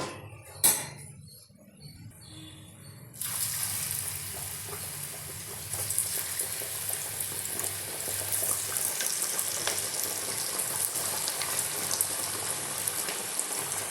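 Bottle gourd appalu, crisp gourd fritters, go into hot oil and fry with a steady, loud sizzle that swells after a brief quiet start and a single clink, continuing unbroken with faint utensil sounds.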